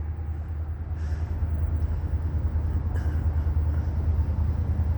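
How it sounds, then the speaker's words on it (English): A Florida East Coast rock train rolls past near the San Sebastian River in St. Augustine, Florida, a steady low rumble of wagons throughout with a couple of brief higher squeals. "This is not the local. Well, it's a rock train."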